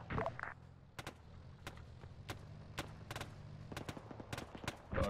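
Gunfire in a military video game, a string of sharp, fairly quiet distant shots in irregular clusters over a low rumbling battle background.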